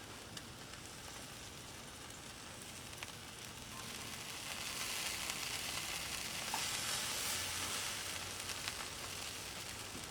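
A steak sizzles in a pan, a constant quiet crackling hiss with faint pops, rising slightly in intensity midway and continuing without talk.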